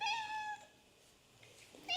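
A small cat lets out a single soft, tonal meow that fades into near silence, with the start of another faint mew at the very end.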